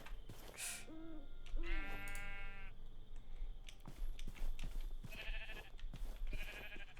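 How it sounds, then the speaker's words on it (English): Sheep bleat in a modded Minecraft game, several wavering animal cries at close range mixed with other creature calls, clicks and game sounds, with no talking. "Let's grab this other sheep hydra."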